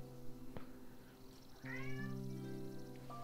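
A cat meows a few times in the background, short tonal calls rising and falling over a quiet room tone, with a soft click early on and no talk.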